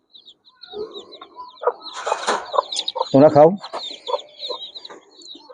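Native desi chickens cluck in short, restless bursts, mixed with a brief higher bird-like call, while a voice speaks over them at close range.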